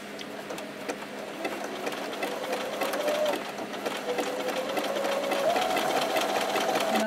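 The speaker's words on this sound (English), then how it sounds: "I'm just sewing so that part of the stitch goes over the one side off of the edge of the patch, and the other side is going onto the patch" Sewing machine stitching a patch onto a pair of jeans, a steady fast mechanical whirr of needle strokes that runs continuously and slightly speeds up toward the end, close and loud with no talking.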